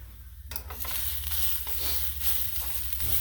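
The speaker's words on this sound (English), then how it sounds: "Start to fry to the bottom of the pan, actually." Onions fry and sizzle in a pan for BBQ sauce, with a steady close crackle and a few scraping stirs of a utensil against the pan bottom.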